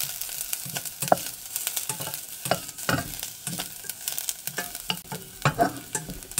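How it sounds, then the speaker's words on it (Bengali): Garlic stir-fries over low heat in a pan for a raw banana peel mash, with soft sizzling broken by repeated scraping strokes of a spoon, close and fairly quiet. "এইটুকুই ভেজে নেব, আর ভাজা দিব না, ভাজা হয়ে গেছে এইটুকু।"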